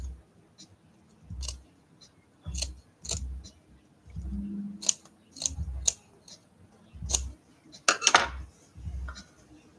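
Scissors snipping excess material off a handmade art doll, a series of short crisp clicks and metallic snips spaced about a second apart, close by, with a denser burst of cuts near the end and faint background rustle.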